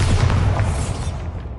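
A Bombarda explosion spell in a Harry Potter video game: a deep, rumbling boom that starts loud and decays over about a second and a half, with no talk.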